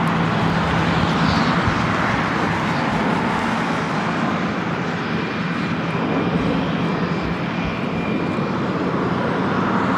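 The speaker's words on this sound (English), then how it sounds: "You have Delta Airlines heading to SFO, flight 2267. It's a 737-900ER heading to 24 right." A Delta Airlines Boeing 737-900ER jet at LAX, bound for SFO, roars loud and steady for the whole stretch, a dense continuous engine noise with no talking over it.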